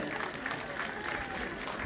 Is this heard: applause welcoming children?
yes